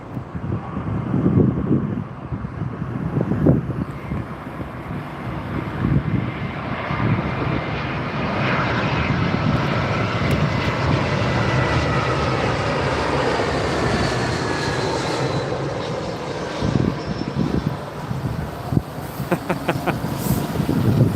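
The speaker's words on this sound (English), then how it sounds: "you just saw both planes go around" Jet aircraft going around at London Heathrow Airport, runway 27R, produce a loud sustained engine roar that swells and slowly shifts in pitch as it passes, with wind buffeting the microphone and no talk.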